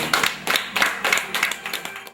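A small group claps after a music performance, giving a short burst of uneven, close hand claps.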